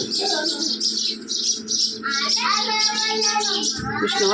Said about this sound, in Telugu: పిట్టల సౌండ్స్ చూడండి